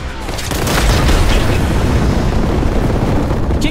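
A grenade explosion in the shooter game Warhammer 40k Boltgun, a loud booming blast that rumbles on as a dense roar for several seconds, with a faint voice in the background.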